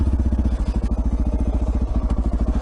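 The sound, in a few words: motorcycle being turned around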